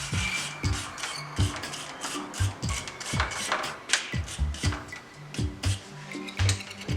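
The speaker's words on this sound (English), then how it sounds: "I figured I'd do it the old-fashioned way and just scrub it with a wire brush" A boat part scrubbed by hand with a wire brush, close rhythmic rasping strokes in quick uneven bursts with occasional light knocks.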